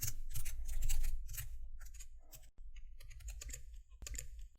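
Someone types on a computer keyboard in a run of quick, irregular clicking keystrokes, close and fairly quiet, with short pauses between bursts and no talk.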